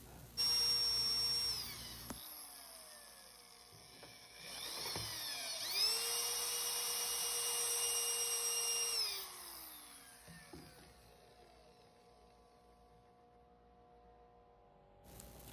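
A homemade coring bit, made from an aerating-machine tine, drills into pallet wood. It gives a loud high whine that spins up, shifts in pitch while cutting, then winds down and stops, leaving near silence.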